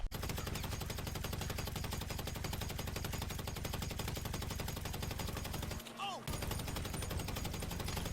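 Rapid, sustained automatic gunfire in a video game, a dense unbroken stream of shots aimed at a player wearing a mask, balaclava and eyewear, with one brief pause near the end before firing resumes.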